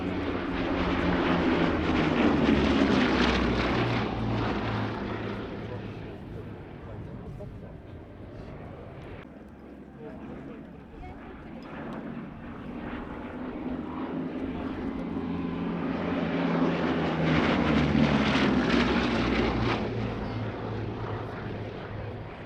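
A Bristol Blenheim's piston engines drone steadily overhead at an airshow, swelling and fading as the aircraft passes, with a narrator talking over the throbbing propeller roar.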